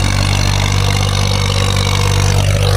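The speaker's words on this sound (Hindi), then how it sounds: "ट्रैक्टर इत्था हल मरेंदा वदे" A tractor ploughing a field in the countryside gives a loud, steady diesel drone with a deep low hum, heard close and without talking.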